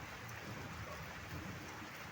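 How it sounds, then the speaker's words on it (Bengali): Light rain falls steadily outside a home, a continuous soft hiss of drops with no voices. "বাইরে বৃষ্টি হচ্ছে"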